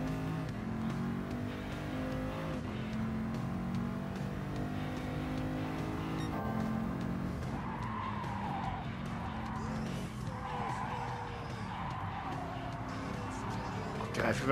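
A car skidding and sliding straight ahead through a corner in Gran Turismo Sport, tires squealing over a droning engine for a long stretch while a player talks over the top.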